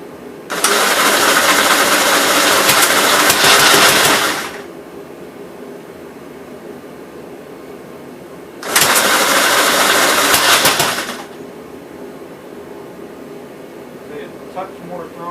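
A 1957 Gravely SR walk-behind tractor engine, freshly rebuilt at the top end, catches and runs loudly in two bursts of about four and two and a half seconds each, with quieter idle-like gaps between.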